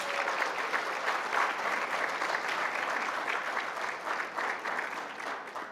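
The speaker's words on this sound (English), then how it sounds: "So I think that deserves a big round of applause." Conference audience at a healthcare event giving a sustained round of applause, dense even clapping throughout that tapers a little at the close.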